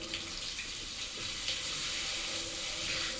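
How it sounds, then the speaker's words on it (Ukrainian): Water runs steadily from a tap while a bath is drawn for washing, a continuous near hiss and splash with no talk. "Анес, якою ти хочеш водою митися? Гарячий чи холодний?"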